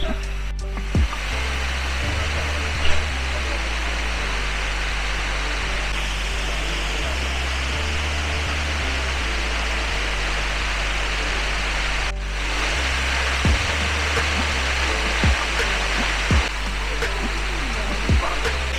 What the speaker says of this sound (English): So yeah, here we are at the very nice waterfalls.